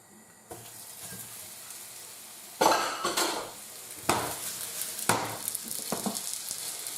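Beef browning in a pan for stroganoff: a soft background sizzle broken by several sharp clanks and scrapes of a utensil against the pan, with stirring sounds in between and no talk.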